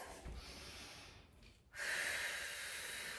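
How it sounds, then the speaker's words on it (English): Deep, drawn-out breaths while foam rolling with a pro trainer: a soft breathy exhale through the nose, a pause, then a long loud hissing exhale that keeps going. No one speaks. "you want to get in a lot of exhales"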